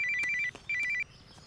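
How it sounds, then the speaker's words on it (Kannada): A telephone rings for an incoming call with a trilling electronic ringtone, two quick bursts of warbling tones separated by a short gap, fairly clear and close with faint room noise behind. "ಇಲ್ಲೂ ಅದು ತಾತ ಅಮ್ಮನೇ ಫೋನ್ ಮಾಡ್ತಿದ್ದಾರೆ"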